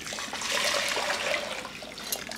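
Dissolved sugar syrup, a hot sugar water, pours into a mashed banana mixture for a fruity slush, giving a steady liquid trickle and splash that runs for about two seconds, close and moderately loud.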